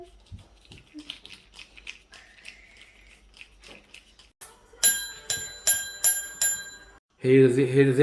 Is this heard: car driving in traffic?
no